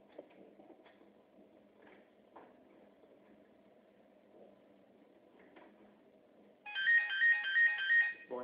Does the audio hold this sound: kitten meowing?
no